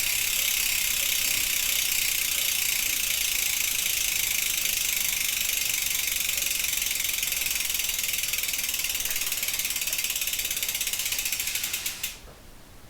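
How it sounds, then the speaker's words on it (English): A mountain bike's freehub ratchets rapidly and steadily as the rear wheel spins freely, a loud, dense, buzzing click close up that runs for about twelve seconds and then stops, with no talking. "can we just take a second to appreciate the sound of the free hub on this bike"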